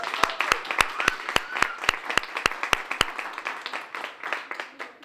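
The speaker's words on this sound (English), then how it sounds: "And so I'd ask you to give her a big round of applause." Applause from an audience at a public event in Washington, D.C., celebrating a children's books program, steady overlapping clapping at moderate distance with a series of sharp, evenly spaced clicks running through the first three seconds before the clapping tapers off.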